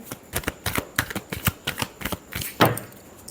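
Tarot cards being shuffled by hand, a quick run of crisp riffling clicks and flicks close up, ending in a denser fluttering burst, with no voices.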